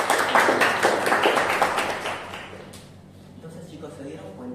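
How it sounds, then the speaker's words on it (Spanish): Brief burst of clapping from students in a neurology lecture hall, several distinct claps that fade within two seconds, followed by quieter room noise and faint talk. "Gracias, un aplauso para ese chico."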